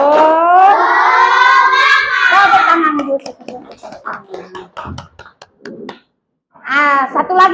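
Students in a classroom chant the 'tepuk semangat' clapping routine: voices in unison, then a run of sharp rhythmic hand claps close by, a short silence, and the group chant starting again.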